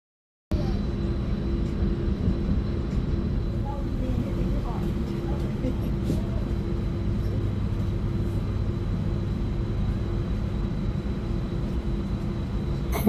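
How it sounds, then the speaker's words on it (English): Commuter train in Auckland, New Zealand, ridden from Kingsland station toward Britomart: a steady, continuous rumble and hum with a faint high electric whine, close and even throughout, with no talking. "So here is our train"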